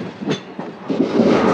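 Train rolling along rails at about 95 km/h near Koduru railway station, a steady rumbling clatter with periodic wheel knocks building slightly louder toward the end, heard from on board with no talk.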